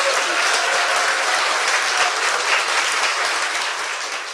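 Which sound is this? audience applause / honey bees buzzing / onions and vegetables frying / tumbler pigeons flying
audience applause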